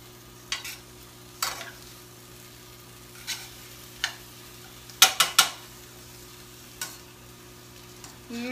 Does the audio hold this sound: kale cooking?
yes